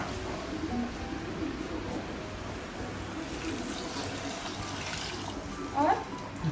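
Water is poured into a cooking pot of rice seasoned with asafoetida and salt, a soft continuous splashing and trickling, fairly faint against kitchen background noise.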